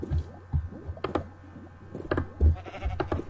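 Sheep bleating repeatedly in Minecraft, short cartoonish bleats over soft mouse clicking and squishy hit sounds as they are attacked.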